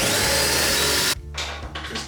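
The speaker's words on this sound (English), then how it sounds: "I just need to drill the hole a little bit bigger" A power drill enlarges a bolt hole in part of a homemade lathe, whining loudly and steadily before cutting out abruptly, followed by a few shorter bursts.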